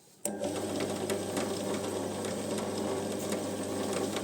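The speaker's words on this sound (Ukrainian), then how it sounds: "От себе, вмикаю станок." A small machine tool starts abruptly and then runs steadily, giving a continuous close mechanical whir and hum with faint ticking. No one speaks.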